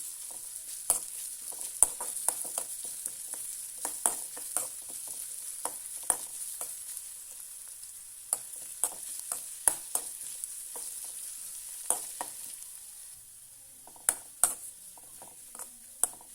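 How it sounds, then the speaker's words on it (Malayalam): A curry is stirred as it fries in a pan over a medium flame, with a steady sizzle broken by scattered clicks and scrapes from the spoon. Nobody speaks. "നന്നായിട്ട് ഇളക്കി കൊടുക്കാം. മീഡിയം ഫ്ലെയിമിലാക്കുമ്പോൾ നമ്മൾ തൊടരെ ഇളക്കിക്കൊണ്ടേയിരിക്കണം"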